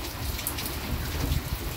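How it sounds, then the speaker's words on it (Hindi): A steady, dense patter of heavy rain hisses evenly throughout, close and constant, with no voices. "तेज बारिश।"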